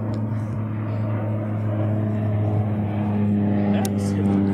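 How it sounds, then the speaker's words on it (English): A propeller plane passes overhead as a low, steady drone beneath close, ongoing conversation. "It's a plane. No, that is a plane, sir."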